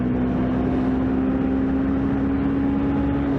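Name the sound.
125cc motorcycle riding on the freeway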